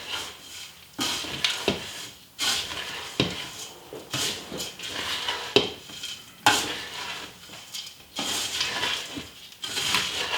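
Pepperidge Farm cornbread stuffing mixed in a bowl, with repeated scraping and clinking strokes of a utensil against the dish in an uneven rhythm, close and moderately loud.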